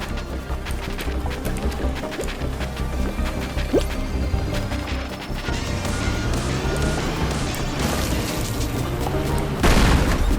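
Vehicle blowing up and crashing in a video game: a run of loud booms, smashes and rattling debris impacts layered over the game's music, with a sharp crash burst close to the end.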